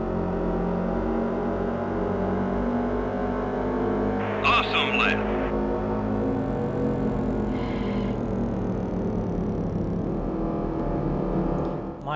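Race car engines drone in NASCAR Thunder 2003 at New England, a steady, loud whining roar with a brief higher squeal midway, running under continuous talk.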